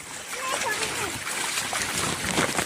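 Water splashing in a clear spring stream during rain, with bursts of splatter and sloshing close by and a voice speaking over it.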